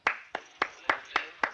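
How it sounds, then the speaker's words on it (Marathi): Six sharp hand claps in a steady, evenly spaced rhythm, close and clear against a quiet indoor background, with no one speaking. "टाळ्या वाजवायला काय झालं?"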